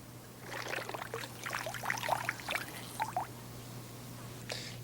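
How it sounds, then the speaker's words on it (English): Fingernail polish remover poured over mashed plant goo in a glass, a soft trickling, splashing flow lasting a few seconds over a steady low hum, with a brief hiss near the end. "Now pour fingernail polish remover over the top."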